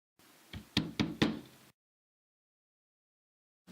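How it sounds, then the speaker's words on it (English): Four firm knocks land on a door in a quick, evenly spaced series, close and distinct, followed by silence, in a Sherlock Holmes radio drama. "Knock again if you don't mind."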